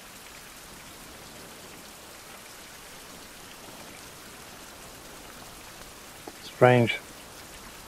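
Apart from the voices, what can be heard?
rain falling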